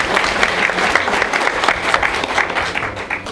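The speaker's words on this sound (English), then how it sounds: "so a round of applause for Zene" An audience at a stock exchange opening bell ceremony breaks into loud, close applause for a newly appointed CEO, with dense, steady clapping throughout.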